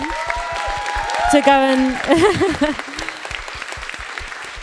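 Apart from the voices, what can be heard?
audience applause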